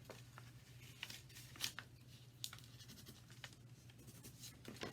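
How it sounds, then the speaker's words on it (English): A pen or marker scratches a line across a paper bag in quiet, intermittent strokes over a low steady hum, with soft rustles and taps of the paper between marks. "So I'm going to make a mark on my paper bag"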